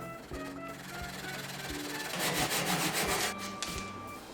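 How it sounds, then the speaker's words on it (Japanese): A handsaw rasping through a protruding wooden stick held level over a tabletop, in short back-and-forth strokes, steady and close, growing a little louder midway, with no talking. "このノコギリをまっすぐ水平に保ちながらこう優しくカットするような感じですね"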